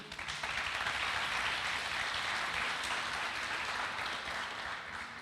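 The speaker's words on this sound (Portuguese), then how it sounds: "Dê um aplauso a Jesus aí." Church congregation applauding during a Portuguese-language worship service, sustained broadband clapping that stays steady and fairly loud for several seconds before easing slightly at the end.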